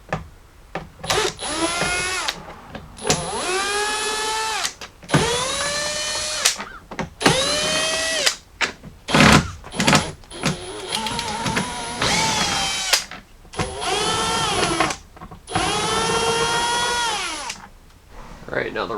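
A power drill backs out Phillips screws from the rear hatch trim of a 1997–2001 Jeep Cherokee XJ, each loud whirring burst rising in pitch, repeated about six times with short pauses between them, close and alone.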